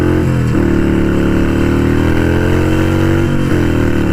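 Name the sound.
Harley-Davidson Sportster 883 Iron engine with Vance and Hines Short Shots exhaust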